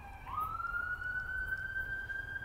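A siren wails steadily in the distance, its pitch rising briefly at the start and then holding a sustained tone over low background rumble.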